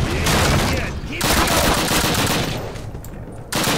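Loud, dense bursts of rapid automatic gunfire in a video game, sustained volleys broken by brief pauses, close and dominant.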